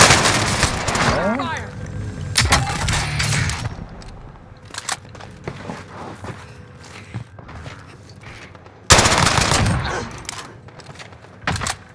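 Gunfire in a first-person shooter match, with bursts of shots and rapid fire scattered over footsteps and game noise, loudest near the start and again toward the end, with a player talking intermittently.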